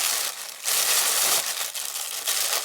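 Packaging around a leather bag is cut open, loud close crinkling and rustling in two bursts separated by a short pause, no speech.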